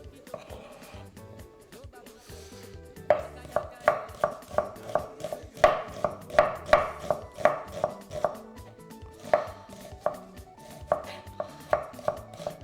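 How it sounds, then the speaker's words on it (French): A knife chops onions on a cutting board with a quick, even run of sharp knocks that speed up and then slow, while a person talks alongside. "on peut vous regarder dans les yeux et couper des oignons"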